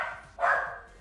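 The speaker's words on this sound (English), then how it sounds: "Well, she's mostly barking, but she's got a weird bark when she's like startled" A startled dog gives a single odd, strained bark partway through, close and fairly loud, following a softer whining tone, with no talking.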